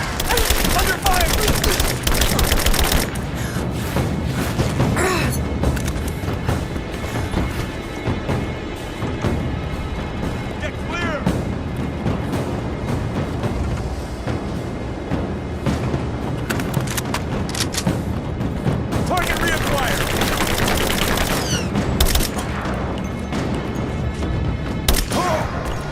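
Gunfire from the video game Rise of the Tomb Raider rattles almost continuously in dense, loud bursts over a busy combat soundscape, with shouted voices mixed in.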